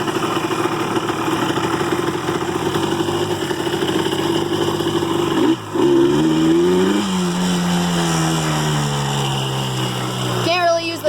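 A 2003 Yamaha Blaster ATV engine runs under way with a steady buzzing drone, then rises and shifts in pitch as it revs, close and loud, with a voice speaking over it.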